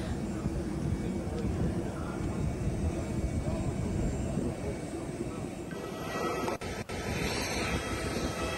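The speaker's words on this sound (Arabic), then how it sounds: "بعد أن حطت طائرة رئيس مجلس السيادة عبد الفتاح البرهان في العلمين المصرية" The aircraft carrying the head of Sudan's Sovereignty Council lands at El Alamein, Egypt, with a continuous broad roar of engine and rushing air that stays fairly steady, plus a couple of brief clicks near the end.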